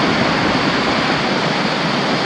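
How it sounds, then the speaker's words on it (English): Steady roar of water pouring over a spillway falls into Juniper Creek at Lake Juniper, a dense, unbroken rushing hiss close by. "you can see the water coming over the falls of the spillway here and goes down through this creek"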